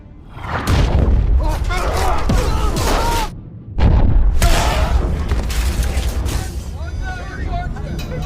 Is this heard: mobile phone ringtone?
no